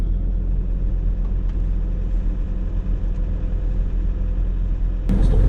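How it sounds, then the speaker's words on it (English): A Queensland sports car passing on an Australian road, heard as a loud steady engine and tyre rumble close by, with a sharp knock near the end. "Oh, there's a nice car. Queensland sports car."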